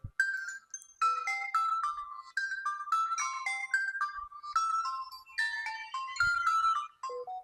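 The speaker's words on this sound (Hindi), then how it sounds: "ये फोन बज रहा है" A mobile phone ringtone plays a bright, fast melodic sequence of electronic tones that repeats for several seconds, loud and close, with no talking over it.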